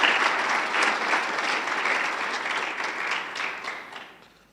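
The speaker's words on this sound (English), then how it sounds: "If we can give the both of them a round of applause" Audience applause at a school prize-giving ceremony, a steady, dense wash of clapping from a large indoor crowd that carries on for a few seconds and then fades out toward the end.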